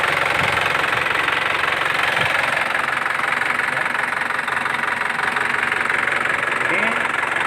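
Isuzu Panther LS diesel engine idling steadily at close range, a continuous rumbling drone with faint knocking texture running throughout without a break.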